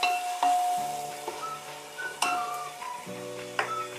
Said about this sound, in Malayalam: നമുക്ക് ഓണിയൻ ആഡ് ചെയ്ത് കൊടുക്കാം. നമുക്ക് വഴത്താനായിട്ടാണ് ഇങ്ങനെ ആഡ് ചെയ്ത് കൊടുത്തു.